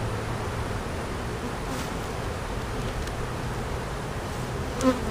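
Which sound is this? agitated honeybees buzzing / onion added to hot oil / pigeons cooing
agitated honeybees buzzing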